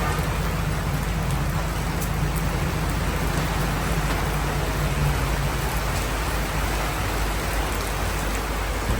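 Heavy rain pours down at an outdoor stage event, a dense, constant roar of drops hitting surfaces that stays loud and unbroken throughout, with no voices.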